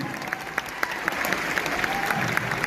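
Audience applauding inside Talkatora Stadium in Delhi during a Safe Shop speech event, a dense steady wash of many hands clapping with sharper individual claps standing out, sustained throughout.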